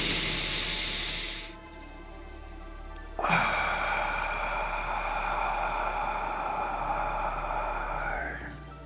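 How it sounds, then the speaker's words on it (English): Long, steady airy inhale through the nose lasting several seconds, fairly close and alone, ending abruptly, with a brief hiss before it during a guided breathing session. "Nice deep breath in through the nose."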